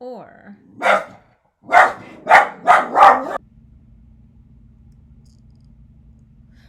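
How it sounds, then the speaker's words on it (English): Dogs barking indoors, several sharp, loud barks in a quick burst after a short whimpering yip, close by, then cut to a low hum as the recording pauses; a brief word is spoken near the start. "so sorry about the barking"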